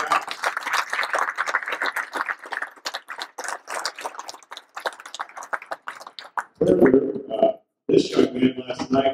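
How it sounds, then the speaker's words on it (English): An audience at a congressional town hall in Merrill applauds the color guard, a burst of scattered clapping that thins out, followed by someone speaking. "How about a round of applause for us?"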